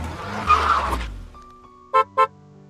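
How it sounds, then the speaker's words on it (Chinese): A car rushes past with a brief swell of engine and tyre noise, followed after a pause by two short, sharp horn honks in quick succession. "汽车。"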